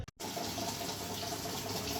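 Water pouring steadily into a Samsung top-load washing machine drum, a continuous close rushing hiss after a brief pause at the start.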